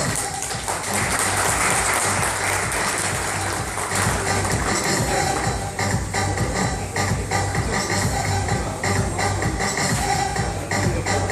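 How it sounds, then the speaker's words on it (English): A crowd at a product launch event in Chennai applauds distributors, steady dense clapping that holds loud and continuous throughout, with shuffling and faint voices mixed in. "Let's give them a big round of applause"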